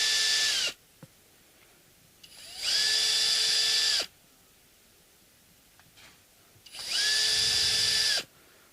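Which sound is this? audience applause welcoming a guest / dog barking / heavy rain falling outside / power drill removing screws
power drill removing screws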